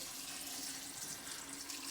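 Tap water pours steadily into a jar of wild rose petals for making wine, a continuous close hiss and splash with no pauses and no talking.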